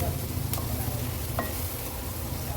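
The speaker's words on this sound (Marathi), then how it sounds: "मसाले व्यवस्थित तेलावर शिजवून घ्यायचे आहेत आपल्याला" Coriander-cumin powder, goda masala and garam masala frying in oil for a traditional Bhogi mixed vegetable dish make a dense, constant sizzle, with a spoon stirring through it and two brief metallic taps.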